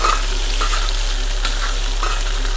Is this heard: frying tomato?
yes